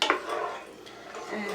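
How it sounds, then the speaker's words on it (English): A spoon scrapes and clinks against a pot as milk is gradually stirred into a sauce for a shrimp casserole, brief close kitchen clatter with faint background noise. "So just gradually stir it in like this until it starts to bubble again"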